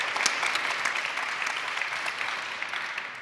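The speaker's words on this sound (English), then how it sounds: "If you think Kratos had the best facial hair, give us a good clap." Steady applause from an audience, many hands clapping at once, sustained and fairly even in volume before tapering slightly at the end.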